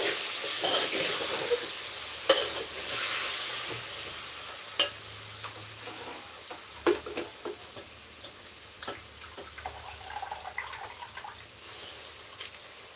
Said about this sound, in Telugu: రైస్ని ఒక ఫైవ్ మినిట్స్ మనం వేయించుకోవాలి కాస్త కలుపుకుంటున్నాను